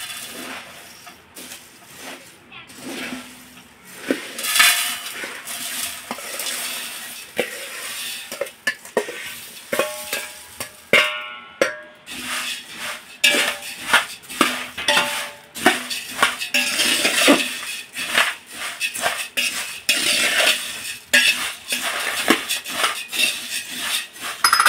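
Chivda snack mix being tossed and stirred in a large metal pot, with repeated rattling scrapes and clinks of a spoon against the pot, irregular and close, with faint sizzling and no speech.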